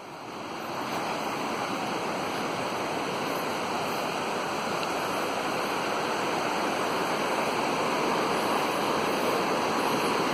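Ocqueoc Falls on the Ocqueoc River in Michigan roars in a steady, dense rush of falling water, loud and close, unbroken for the whole stretch with no voices.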